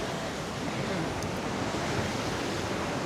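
Strong wind gusting along the coast at Costa de la Calma, Mallorca, a steady broadband roar of rushing air and buffeting close to the microphone, sounding almost like surf, with no voices.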